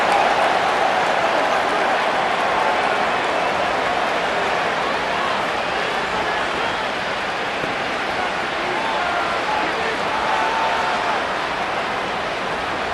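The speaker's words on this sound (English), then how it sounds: "The crowd cranking it up another notch before 3rd and long." A steady, loud stadium crowd roar from the Madden NFL 25 video game, at a Giants versus Broncos matchup, swells evenly and continuously without a break and with no voices heard over it.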